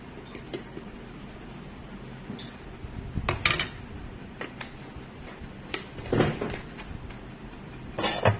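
Avial vegetables are stirred and mixed in a metal pot, with scattered clinks and scrapes of a spoon against the pot, some louder clanks standing out over a quiet background.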